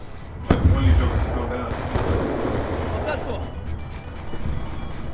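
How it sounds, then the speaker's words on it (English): Gunfire in Call of Duty Black Ops 2 multiplayer: a sharp close shot followed by a sustained rattling barrage of rapid fire that persists at a steady loud level for several seconds. "Oh shit, I'm getting shot at."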